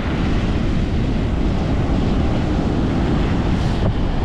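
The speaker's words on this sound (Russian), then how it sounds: "волны все ломаются из-за вот этих плит, которые в воде лежат" Continuous roaring wash of sea surf breaking over concrete slabs lying in the water, broad and loud, with wind buffeting the microphone throughout and no voices.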